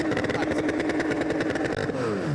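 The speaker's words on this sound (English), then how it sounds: "Just let Ariel Levy rev the engines there." Porsche Sprint Challenge race car engines rev at Estoril, a loud throbbing engine roar that drops in pitch near the end, with a commentator talking over it.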